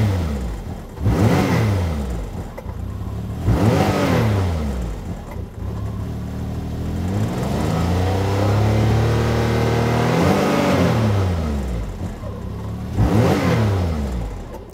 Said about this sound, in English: So I'm gonna start this one up and give it a rev up for you, and you can hear it.